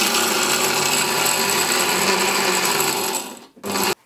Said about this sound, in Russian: Теперь в блендер-шмендер.